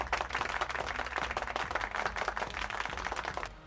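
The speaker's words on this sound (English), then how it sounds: "We can give him a round of applause." A round of applause, a dense patter of many hands clapping continuously at moderate volume for a few seconds.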